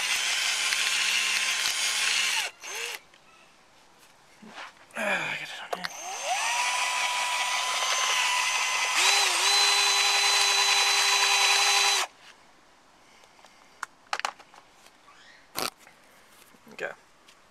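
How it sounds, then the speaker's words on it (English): A power drill whirs in long bursts with pauses between, pitch rising and falling as it bites, with a brief spoken comment and clatter nearby. "Just drill a little bit out of each side."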